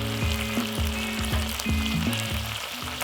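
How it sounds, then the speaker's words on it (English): Shishito peppers frying in sauce in a pan, a steady bubbling sizzle broken by a regular series of dull knocks and scrapes, close and without talk. "I'm going to fry a few Shishito peppers in the sauce"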